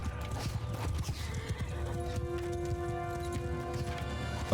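Horses in the video game Mount & Blade II: Bannerlord, rapid clip-clop of hooves in a steady stream with a whinny, moderately close and alone without talk.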